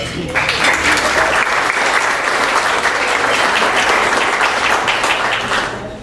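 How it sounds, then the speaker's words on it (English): Audience at an awards luncheon gives the judges a sustained round of applause, dense steady clapping that starts abruptly, holds loud and even for several seconds, then tapers at the end. "So I'd like to give one last round of applause."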